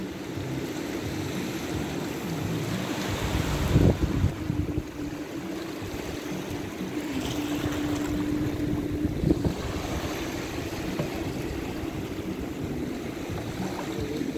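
A small boat travels over the sea near a river outlet at La Bocana, with a steady motor and water wash mixed with wind buffeting the microphone and a couple of louder splashes, no speech.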